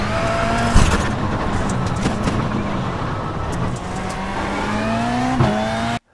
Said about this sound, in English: We hit the throttle ever so slightly here. And when the car grips up, we go full throttle.